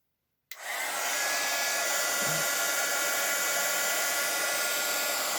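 A heat gun switches on after a brief silence and blows steadily onto scrapbook paper, a close, continuous roaring hiss with a faint whine that holds to the end, no voices.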